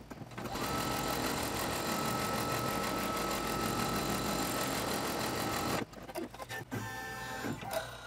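An embroidery sewing machine stitches fabric into place on a quilted wall-hanging block, running fast and steady for about six seconds before stopping, followed by a few soft handling sounds.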